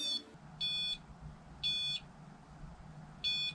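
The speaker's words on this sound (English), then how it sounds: "Here's a few videos of what a REM pod sounds like." A REM pod paranormal detector sounds its alarm as short, evenly spaced high electronic beeps, three bursts of roughly a third of a second each about a second apart, clear and fairly close over low background noise.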